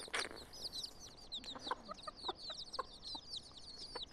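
Roosters and hens on a farm, with repeated clucking and crowing calls close by over continuous bird chatter, with no voices present.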